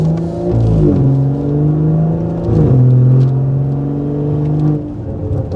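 A BMW exhaust with an OEM-style burble tune revs and then drops through downshifts, a loud, steady engine drone rising and falling in pitch over several seconds, close by, with no talk.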